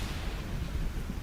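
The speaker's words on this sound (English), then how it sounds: "there's a lot of lightning going on over here" Thunder from a lightning storm in the fishing game Dredge rolls as a steady, low rumble, dense and continuous for the whole moment without any distinct crack.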